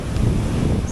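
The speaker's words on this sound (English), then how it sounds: "Strangely, it's breezy," Breezy wind on a beach buffets close against the microphone as a steady, low rumbling rush with no voices.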